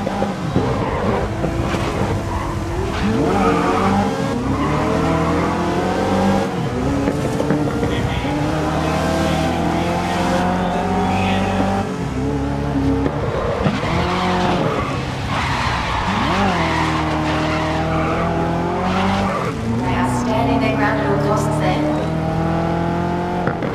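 Race cars in the Grid 2019 video game scream past with high, rising and falling engine whines. Tires squeal through corners and several cars overlap in a loud, continuous din, with a commentator talking over them.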